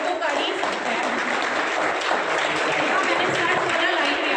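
Applause from an audience at a women blood donors' honour ceremony in a hall in Satna: dense, steady clapping fills the whole stretch, mixed with crowd noise and a voice speaking over it.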